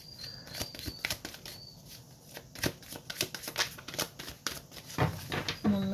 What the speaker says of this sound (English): just gonna shuffle the cards really good.